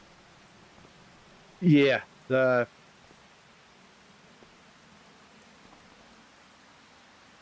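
Rain falling in the video game Farming Simulator 25, a soft, steady hiss of drops throughout, with a single short spoken word near the start.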